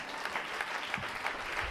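A church congregation claps steadily for a short stretch, a dense, even patter of applause heard from within the crowd, fairly quiet and without voices.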